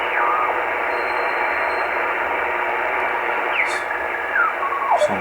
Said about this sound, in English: Some Morse code here